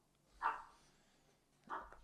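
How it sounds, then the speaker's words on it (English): A small yappy dog barks twice, about a second apart, each bark short and sharp, heard from some distance in a quiet indoor room. "sorry if anybody can hear that yappy dog"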